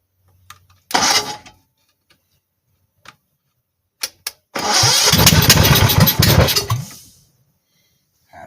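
A Tecumseh HH100 small engine on half choke, bound for a 1970 Bolens Husky 1253, gives a few short cranking pulls, then catches and runs loudly for about two seconds before cutting out.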